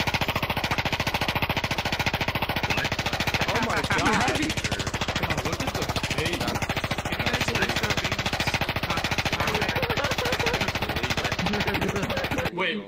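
Rapid automatic Uzi fire in the VRChat game, a dense continuous rattle of shots running loud and steady for about twelve seconds before cutting off abruptly.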